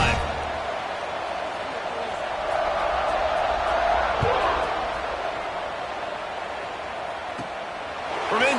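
Stadium crowd at a college football game versus ASU roaring steadily after a touchdown drive, a broad sustained wash of cheering with a few whoops, continuous and loud throughout.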